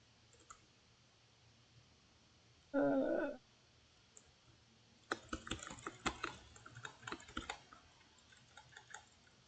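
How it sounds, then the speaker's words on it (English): A rapid flurry of clicking keystrokes on a computer keyboard, close and crisp, comes in an uneven burst after a short tone and a quiet pause. "You don't have to spam your keyboard."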